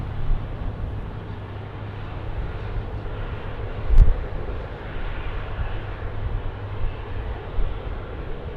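A Qantas airliner takes off from runway 16 right at Sydney Airport, a steady, fairly distant broadband engine roar that holds evenly throughout with one brief thump near the middle and no voices.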